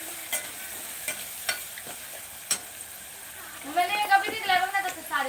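Rice being stir-fried for khichdi in a pan, with a few sharp scraping strokes of the spatula followed by a brief burst of sizzling frying, while a person talks over it.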